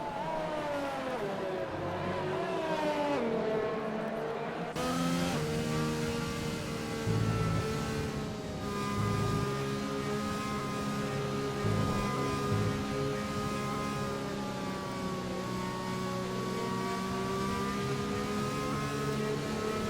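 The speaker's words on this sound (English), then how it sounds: "And it will be Easton, the first car to be on track" Race car engine droning steadily on track in a racing video game set in Japan, a continuous high revving tone with gear shifts early on, loud and unbroken with no voices.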